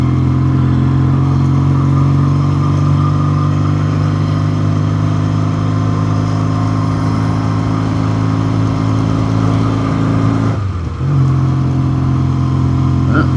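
A 1962 Triumph Tiger 90 motorcycle engine runs steadily while riding on a cold day, a loud close drone with a brief dip at a gear change before settling again.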